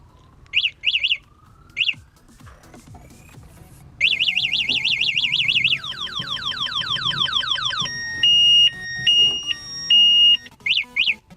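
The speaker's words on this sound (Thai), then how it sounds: "เพิ่นยังแถมมาระบบความปลอดภัยแบบล็อกล้อที่มีเสียงอะลามแจ้งเตือน" Wheel-lock security alarm on a Venezia electric scooter, a loud electronic siren cycling through patterns: short chirp bursts, rapid warbling sweeps, then alternating two-tone beeps, close and uninterrupted.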